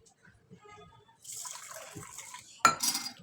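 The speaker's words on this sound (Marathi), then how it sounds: "आता हे तांदूळ स्वच्छ पाण्याने धुवून घेऊया" Rice washed with clean water in a vessel: soft clinks and sloshing at first, then a louder burst of clattering and swishing water near the end, close by, with no talking.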